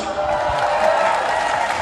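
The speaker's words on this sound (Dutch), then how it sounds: "Geef ze een applaus." A crowd applauding and cheering at the TeamNL homecoming celebration, a steady, even roar of clapping that holds for a couple of seconds without letting up.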